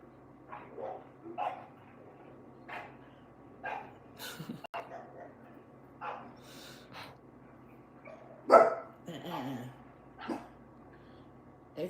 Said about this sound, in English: some dog's out in the dog park going at it.